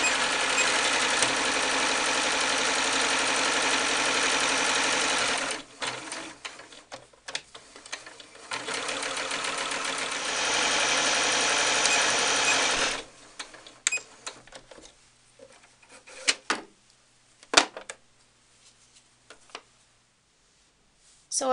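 A domestic sewing machine stitches muslin doll arm pieces in two long steady runs of rapid whirring, each stopping abruptly, followed by scattered clicks, taps and handling noises of fabric and machine in a quiet room.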